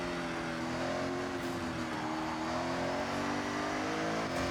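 Ferrari F80 engine under way in Forza Horizon 6, a steady sustained drone with harmonic layers holding near and loud throughout, with slight shifts in pitch as the car drives, no talking over it.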